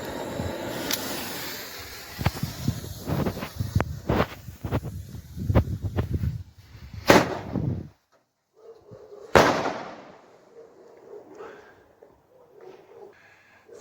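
Small firework fountains and shot tubes going off outdoors, a rapid series of sharp crackling bangs and pops, then a couple of louder isolated reports with quieter gaps between.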